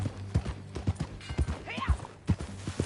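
Horse hooves clip-clop at a walking pace in the video game Red Dead Redemption 2, with an even rhythm of close, distinct hoofbeats and a short voice-like sound in the middle.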